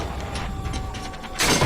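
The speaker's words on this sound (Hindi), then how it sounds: "और फिर उसने रविशंकर के घर का दरवाजा तोड़ दिया।" A door is smashed in as a sound effect for an animated Hindi horror story. A steady low rumble gives way to a loud, sudden crashing burst near the end.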